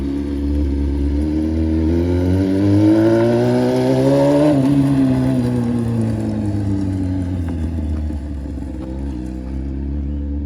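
A loud 600cc Honda CBR F4i sport bike engine revs and climbs in pitch, then eases back down, holding a strong continuous roar nearby.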